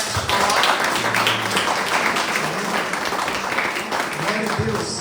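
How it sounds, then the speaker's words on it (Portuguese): A church congregation breaks into applause, a dense, loud wash of clapping that holds steady for several seconds, with voices calling out over it. "Então você pode dar uma salva de palmas para essa palavra."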